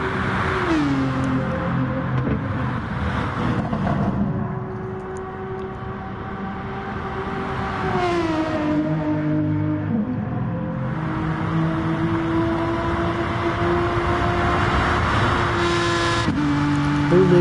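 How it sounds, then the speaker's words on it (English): Race car engines on practice laps in a PS4 racing game, loud whining revs rising and falling continuously with gear shifts as cars pass close by. "the guys just putting a few practice laps before this last race"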